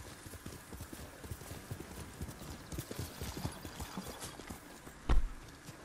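Hoofbeats of a horse clip-clopping at a run in the samurai video game Ghost of Tsushima, a steady rapid rhythm over game ambience, with a brief loud thump near the end.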